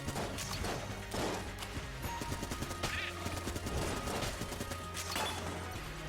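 Rapid, dense gunfire from the video game Enter the Gungeon crackles throughout, with bursts of shots and impacts layered over a steady game soundtrack.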